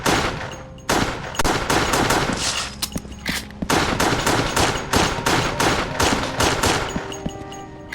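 Rapid gunfire from Resident Evil: The Darkside Chronicles on Wii, bursts of sharp shots fired in quick succession with brief pauses between volleys, loud and close with no talking.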